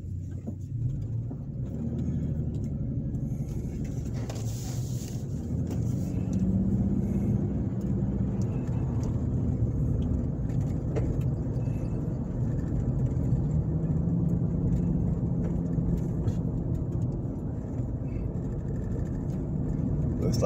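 A car driving through downtown Andalusia, Alabama, heard from inside as a steady low road and engine rumble that holds evenly throughout, with no voices.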